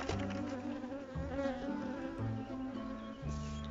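Honeybees buzz around a hive at an apiary, a dense, close, continuous drone of many wings with shifting pitch and no voices.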